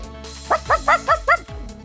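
A person imitates a dog with five quick, evenly spaced barking yips in a row, close and clear, over a background of bright music.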